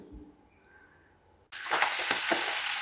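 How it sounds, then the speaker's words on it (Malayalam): Pre-cooked beef drops into hot oil: after a quiet moment comes an abrupt burst of loud, crackling sizzle that keeps spluttering close by. "വേവിച്ച് വെച്ചിരുന്ന ബീഫാണത്. നമുക്കൊന്ന് നല്ലതുപോലെ വറുത്തെടുക്കാം"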